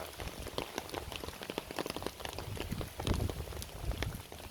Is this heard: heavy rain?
yes